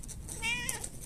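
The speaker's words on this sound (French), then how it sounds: "Il y en a qui ont des chats, et quand ils entendent miauler Canel, ils réagissent aussi." A cat meows once, a clear, close drawn-out cry standing above steady background noise, with no voices present.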